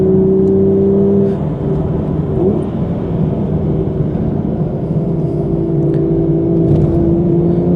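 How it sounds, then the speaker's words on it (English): A Nissan Skyline accelerates hard around the Brands Hatch circuit, a steady loud engine drone with rising harmonic tones that dip, then climb again as it pulls away. "let Alex go in his Skyline. He's on it, he knows where he's going"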